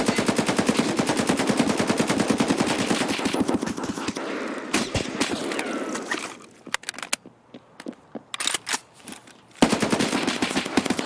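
Automatic gunfire in Escape from Tarkov, long loud rapid bursts that stop, then scattered single shots and a heavy explosion before a final sustained burst resumes, no voices heard.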